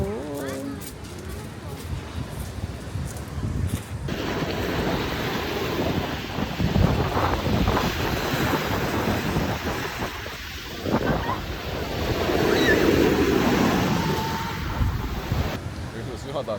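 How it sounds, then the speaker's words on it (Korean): Ocean surf rolls and crashes at Primošten, Croatia, amid gusty wind buffeting the microphone, with people talking over the roar of the waves. "파도가 너무 쳐서"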